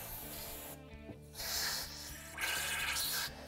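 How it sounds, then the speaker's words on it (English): Brake cleaner aerosol sprayed onto a dirt bike brake caliper during a rebuild, in two close, loud hissing bursts separated by brief pauses, with a low mechanical hum underneath. "we're going to take some brake cleaner,"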